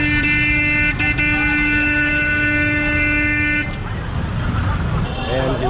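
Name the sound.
chaotic street traffic with car horns honking in Cairo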